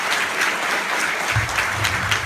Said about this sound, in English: we give them a round of applause for being reasonable and polite